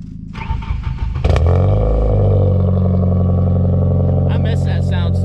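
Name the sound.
loud Ford Focus engine started and revving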